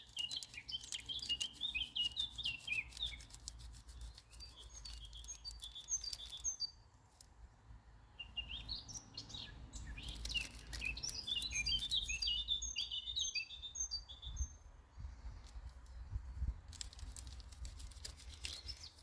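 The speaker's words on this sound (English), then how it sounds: "that's why I do my videos in the morning, and the birds are just beautiful background." Birds singing in the morning outdoors in New Mexico: repeated bright chirps and tweets from several birds, fairly distant and soft, over a low breezy background, pausing briefly midway.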